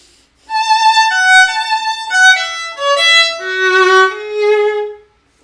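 A solo violin melody, singing and legato, with sustained notes gliding into one another over about five seconds.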